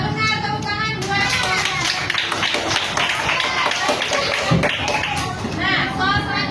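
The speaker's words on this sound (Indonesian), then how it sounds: "Iya benar, tepuk tangan buat." A classroom of students claps for a correct answer, brisk uneven clapping from a small group mixed with children's chatter and movement nearby.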